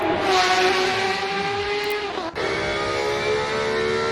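Video game race car engines scream at high revs in a multiclass race on a bumpy track, pitch sweeping up and down as cars shift gears and pass, loud and close with no talking.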